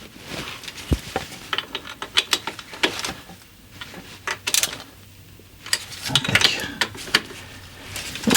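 Ratchet work on the bolts of a Ssangyong Rodius car in a garage, a run of quick metallic clicks and clatters in short bursts, close and fairly loud, with brief pauses between passes.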